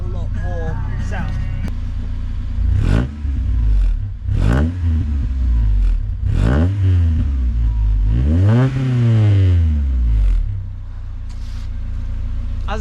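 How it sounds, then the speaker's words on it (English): Japanese car engine with VTEC revving repeatedly through its exhaust, several sharp rising-and-falling revs, loud and close, with a sustained climb to high revs near the end. "when that VTEC hits, that's when we get a lot more sound."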